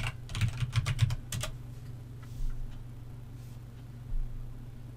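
A computer keyboard typed in a quick burst of close clicks over a steady low electrical hum, then a couple of isolated soft keystrokes, with no one speaking.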